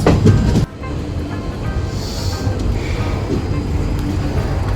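Silchar Express passenger train running on rails at dusk near Badarpur Junction, a loud steady rumble with rail clatter heard from inside the coach, with a brief heavier burst at the start.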